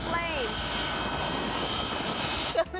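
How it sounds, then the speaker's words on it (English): A small airplane engine drones loudly and steadily as the plane arrives, a sustained close roar with a brief higher whine near the start and a few people speaking faintly under it. "We're hoping this is our plane."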